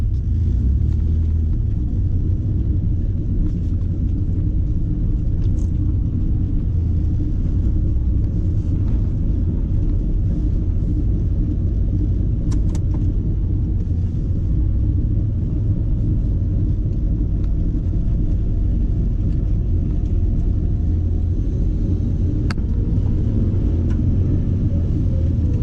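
A car engine running on a Megasquirt road tune, idling and cruising slowly around a parking lot, producing a steady low rumble heard from inside the vehicle, continuous throughout with no talking.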